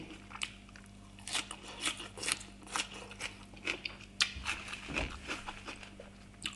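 Someone chewing a bitter raw vegetable close to the ear, with a run of crisp, crunchy bites and wet chewing in an uneven rhythm over about six seconds and no talking.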